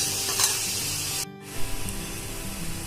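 Spices and chopped garlic, chilli and ginger-garlic paste sizzle in hot oil over a low flame for a tempering for curd kadhi; a steady crackling hiss runs close and loud, with a brief pause midway, and no one speaks.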